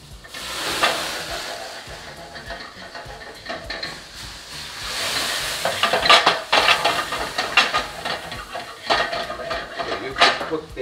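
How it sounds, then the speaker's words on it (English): Brandy added to a hot pan with tomatoes for a cream sauce, bursting into loud sizzling and hissing while utensils clink and scrape against the pan nearby. "just add the brandy and make sure you add the brandy this way"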